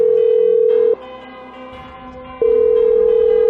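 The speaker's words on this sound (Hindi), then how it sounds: "मीरा के डेस्क का फोन अचानक से बजने लगा" A desk telephone in an office rings with a steady electronic tone, sounding on and off in two long bursts separated by a short pause, loud and close with no one talking.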